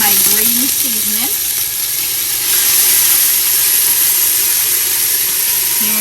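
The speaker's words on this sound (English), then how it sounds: "Hear that sizzle, buddy." Green seasoning sizzling in hot oil in a pot, a loud continuous crackling hiss that fills the whole stretch, with a faint vocal sound briefly at the start.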